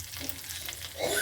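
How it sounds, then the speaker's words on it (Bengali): Cumin seeds and a bay leaf fry in a wok with a short, close, steady sizzle that swells slightly at the end. "এবার আমি কড়ায় সাদা জিরে দিয়ে দিলাম, তেজপাতা"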